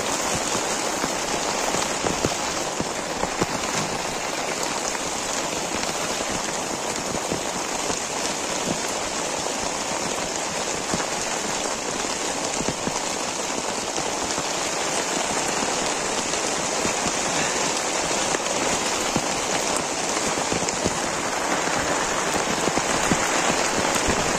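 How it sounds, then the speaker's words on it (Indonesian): Heavy rain pours steadily at a campsite, a dense, loud, unbroken wash of drops drumming on surfaces throughout, with no voices heard. "Ini kencang sekali teman-teman hujannya,"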